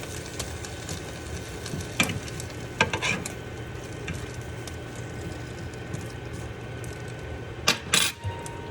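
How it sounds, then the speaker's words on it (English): Turkey bacon frying in an already hot pan on a stovetop gives a steady close sizzle, with a few sharp clinks of utensils against cookware over it and no talk. "we cook our turkey bacon"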